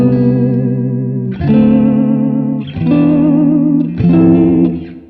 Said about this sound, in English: That sort of sounds like a vibrato pedal. Kind of underwater sounding.